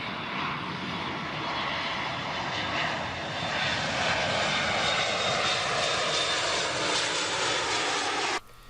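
A fixed-wing aircraft passes overhead with a broad engine roar that swells slightly and holds steady, then cuts off abruptly at the end.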